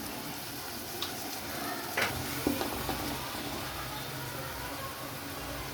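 Tomatoes stirred into sizzling ginger garlic paste in a pan for chicken pulao, giving a steady close frying hiss with a few scraping stir clicks, no talk.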